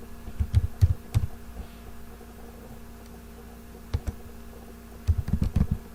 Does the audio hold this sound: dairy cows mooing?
no